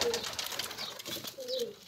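Pigeons coo in low, soft warbling calls, two distinct phrases at the start and near the end, moderately close amid faint outdoor background noise.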